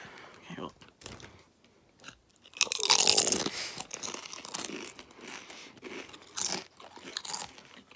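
Doritos Spicy Hot Limon chips bitten and chewed up close, bursts of loud crisp crunching and crinkly chewing, with someone talking intermittently between bites.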